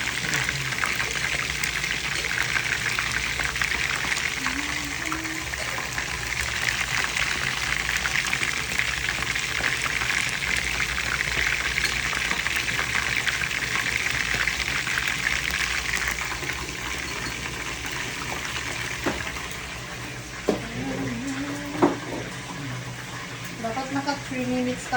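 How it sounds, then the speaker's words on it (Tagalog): Taro and chicken frying for laing, a steady loud sizzle that runs throughout, with a voice speaking over it near the end. "Fry lang tayo."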